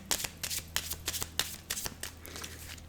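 Oracle cards for love are shuffled by hand, a quick run of crisp riffling flutters in bursts, close and fairly quiet, with no talking.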